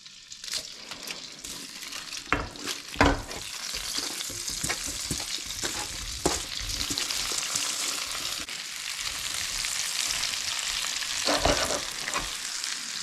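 Potatoes frying in a pan of oil and butter give a steady, close sizzle that runs the whole time, broken by a few louder scrapes and stirring clatters.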